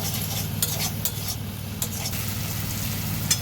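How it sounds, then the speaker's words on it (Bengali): Masala and fried potatoes for Tangra fish curry are stir-fried in a pan, with a steady low sizzle under repeated scraping strokes of a spatula that come in short, irregular bursts. "দিয়ে আরেকটু ভালো করে কষে নেব"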